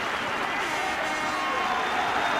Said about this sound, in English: the applause in the background is for Roland Phillips, who leaves the stage